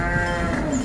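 A cow for sale at a sacrificial livestock market lets out a long, low moo, loud and close, with steady harmonic tones holding for the whole moment.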